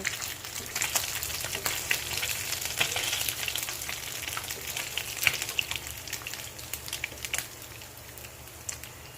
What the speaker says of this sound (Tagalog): Yan, luto na yung mga prito ko.